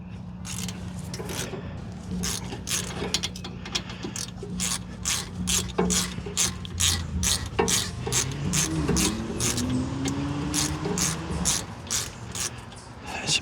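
Repeated ratchet clicking while bolts are backed out of a Chevrolet Silverado 1500 brake caliper, a steady run of close, sharp ratcheting bursts over a low mechanical hum, with no talking.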